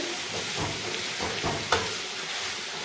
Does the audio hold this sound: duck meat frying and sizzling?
yes